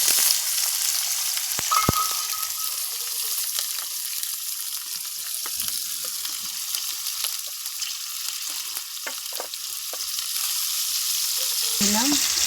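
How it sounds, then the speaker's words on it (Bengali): Shrimp and onion fry in hot oil in a wok, giving a steady, loud sizzle that runs throughout, with a few sharp clinks and scrapes of stirring near the start and end. "চিংড়ি মাছ আর পেঁয়াজটাকে একটু ভেজে নিলাম"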